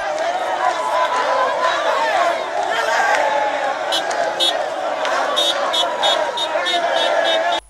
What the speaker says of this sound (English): the crowd swelled as he approached Kaleri